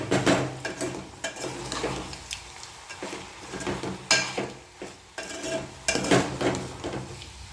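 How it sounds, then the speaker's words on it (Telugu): Fried dried shrimp is stirred into an eggplant curry in a pan: a spoon scrapes and clinks against the metal in uneven strokes over a steady background sizzle, close and fairly loud, with no talking. "ఎండు రొయ్యలు వేసేసి కలుపుకుందాం."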